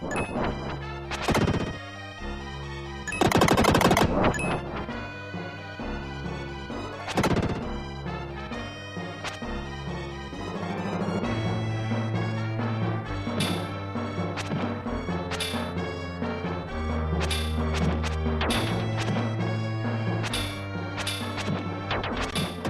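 The golem flings boulders in the Illusion of Gaia video game, making sharp crashing, explosive impacts in quick bursts near the start, over looping synthesized game music that continues afterward.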